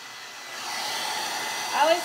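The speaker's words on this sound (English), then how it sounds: "Put my hair through it, and then I blow dry." A hair dryer blows hair dry in a steady, close, airy whoosh that swells slightly near the end of a short stretch.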